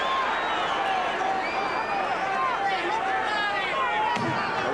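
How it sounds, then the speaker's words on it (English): A boxing crowd cheers during the Larry Holmes vs Ray Mercer fight, a dense and loud roar of voices with shouts rising over it, continuous and near throughout. "The crowd now cheering Holmes's combinations."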